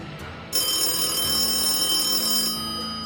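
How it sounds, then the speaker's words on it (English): A mobile phone rings loudly and steadily in a bright, repeating electronic trill that starts abruptly and continues alone with no talking, fading slightly at the end. "My phone's going off."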